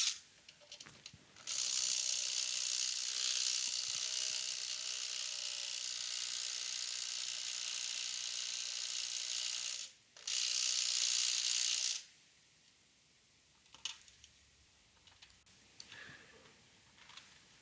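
A small DeWalt cordless impact wrench runs close and loud in one long continuous whirring hammer, briefly stops, then fires again for a couple of seconds before falling quiet.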